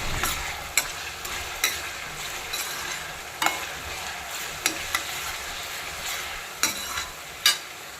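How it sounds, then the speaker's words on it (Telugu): Fresh garlic paste frying in a pan for a mutton curry, a soft continuous sizzle broken by sharp spoon scrapes and taps at irregular intervals. "ఇది పచ్చి వాసన పోయేదాకా కొంచెం వేగనివ్వాలి."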